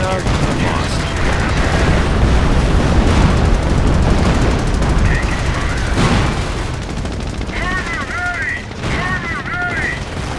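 Rapid gunfire bursts and booming explosions from a Company of Heroes battle with tanks rattle loudly and almost continuously, with a voice talking over the combat.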